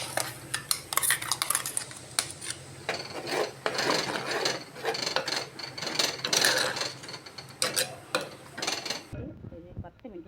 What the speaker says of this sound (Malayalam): ഇനി അരപ്പൊന്ന് ഒഴിച്ചു കൊടുക്കാം.